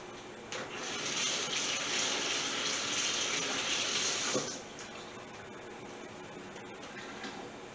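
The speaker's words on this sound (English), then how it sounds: "now I'm just going to wash my hands really quick" A kitchen tap runs while hands are washed under it, a close, steady gushing hiss of water that starts after half a second, continues for about four seconds, then stops, leaving quiet room tone.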